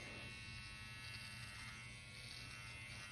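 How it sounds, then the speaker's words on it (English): A Manscaped 4.0 electric hair clipper runs with a steady, close, continuous buzz and a faint high whine, unbroken for a few seconds with no talking. "Let's start with the clipper, okay?"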